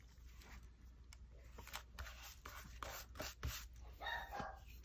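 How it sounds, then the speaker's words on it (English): A dog barks in short, scattered yips and woofs against a steady low hum, the barks fairly faint and somewhat distant. "So if you hear dogs barking in the background,"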